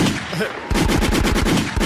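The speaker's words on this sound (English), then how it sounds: "Boy, I wish I had better gunshots." A rapid gunfire sound effect, about a dozen sharp shots in quick succession, loud and close, after a brief murmur of background noise, played on a podcast.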